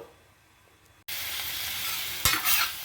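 Capsicum, onion and carrot with turmeric start sizzling loudly in a pan partway through, a bright steady crackle close up, with a brief scrape and swell as the vegetables are stirred near the end.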